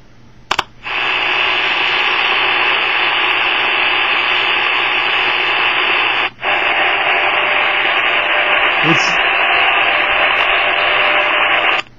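Shortwave static from a Grundig G2 receiver tuned to 10 megahertz: loud, steady hiss with no audible signal, broken by two brief dropouts and a faint wavering tone near the end.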